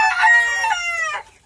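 A single close, loud rooster crow from an ornamental poultry coop, rising then trailing off over about a second, with no talking.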